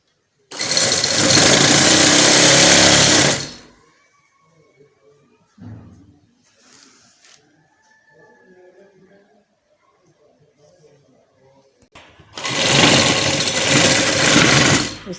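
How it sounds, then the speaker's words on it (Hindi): A sewing machine stitches a cutwork design onto trousers in two loud, steady bursts of about three seconds each, one at the start and one at the end. Between them is a long quiet stretch with faint handling noises. "इस तरीके से हम इसकी सिलाई लगाएंगे।"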